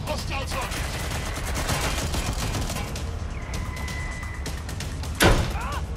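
Gunfire in Watch Dogs Legion, rapid shots crackling over a busy, loud mix, with a sharp heavy blast near the end.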